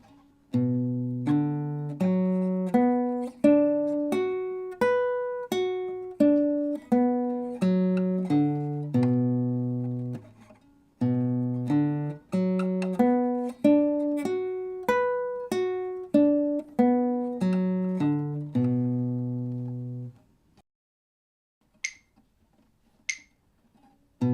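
A two-octave scale on classical guitar played thumb and fingers rises and then descends in evenly spaced plucked notes, each ringing briefly, then repeats the pattern before a few faint taps at the end.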